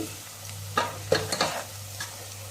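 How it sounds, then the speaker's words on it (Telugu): Dry chilli, coriander and turmeric powders frying in hot oil for a homemade tomato pachadi, with a few soft stirring scrapes and light sizzles over a faint steady hiss. "ఇవి ఇప్పుడు ఆయిల్లో వేసుకున్నాము. ఇది కూడా కొంచెం వేగనివ్వండి."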